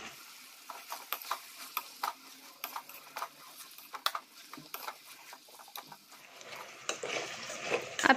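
Sweet corn and black chickpea chaat is stirred and tossed in a bowl, giving quiet, irregular scrapes and soft clicking pats over near silence.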